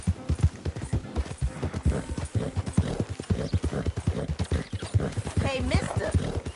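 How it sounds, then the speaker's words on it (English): Horse hooves clip-clop steadily in a PS4 video game, a brisk continuous rhythm of hoofbeats with game background noise, while voices talk over the galloping. "that's one nice-looking horse you got there"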